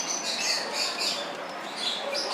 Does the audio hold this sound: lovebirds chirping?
yes